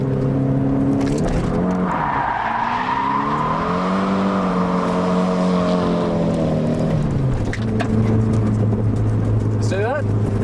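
A car drifts around a corner in second gear at about 60, its engine droning loudly with shifting pitch while the tyres squeal and skid, steady and close throughout, then a rising whine near the end.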